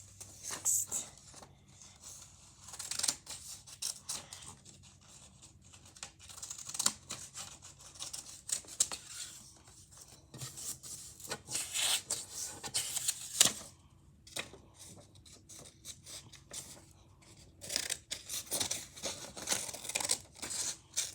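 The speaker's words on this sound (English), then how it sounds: "I'm gonna cut some tops, every top." Scissors snipping and slicing through paper while making a paper book for a toddler craft, a steady run of close, crisp cuts with rustling and crinkling of the sheets between them.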